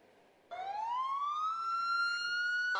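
A loud evacuation siren wails, sweeping upward and holding a high, steady tone, starting abruptly after a moment of low background noise.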